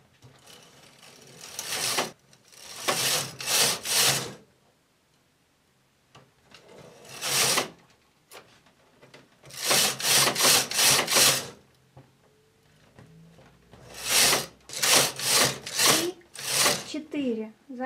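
A domestic knitting machine carriage passes back and forth across the needle bed while knitting rows of an openwork cable pattern, giving repeated loud bursts of rattling, ratcheting clatter separated by short quiet pauses.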